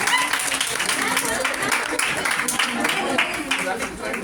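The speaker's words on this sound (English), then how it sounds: "Please give a big round of applause." Audience applause at a college Teachers Day celebration in Zaheerabad, honouring a teacher being handed a pen; steady, dense clapping throughout with voices mixed underneath.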